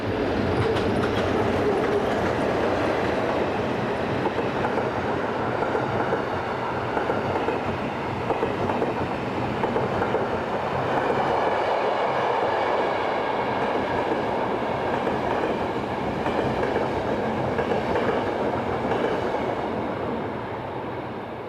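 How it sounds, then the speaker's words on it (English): A pair of RE44 locomotives haul a Euronight passenger train through pouring rain, a long, steady, loud rumble of wheels and carriages with faint rhythmic clatter running throughout. "a pair of RE44s in the shape of 11264 and 11121 head Euronight train number 304 from Rome to Zurich"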